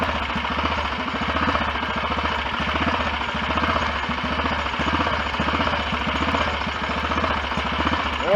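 A BSA DBD34 Gold Star 500 Scrambler single-cylinder motorcycle thumps along a country lane, its engine beating in a steady loud pulse with a little pinking on full advance under throttle, and no one speaks.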